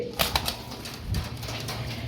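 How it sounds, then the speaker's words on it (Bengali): Mundian and Andalusian pigeons coo softly close by, a low throaty call amid light rustling and a couple of sharp clicks. "মুন্ডিয়ান কবুতর এই যে অ্যান্ডালুজিয়ান"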